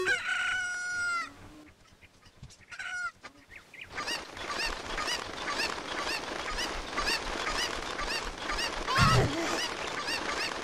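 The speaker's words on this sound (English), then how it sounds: "Attacking cuckoos enough times will cause a swarm of cuckoos to attack you until you leave the area." A swarm of cuckoo chickens in Zelda: Ocarina of Time attacks the player with a dense, continuous barrage of overlapping clucks and squawks. It follows a few isolated calls and other game sounds, and no one talks.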